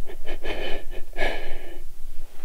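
A dog sleeping hard in a snowy bushcraft shelter snores in a few rough, snorting breaths, close and fairly loud, with one longer wheezy exhale near the middle.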